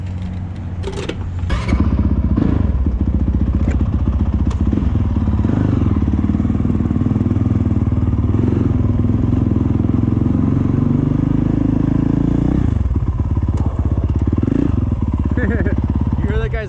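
A stock Honda CRF450L dirt bike engine runs loud and close throughout, revving up and down with a raspy, rattling tone; a voice speaks briefly over it.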